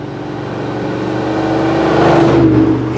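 A 1970 Maserati Ghibli Spyder engine hums while driving, a smooth low drone that swells gradually as the car pulls, close and steady with no talking.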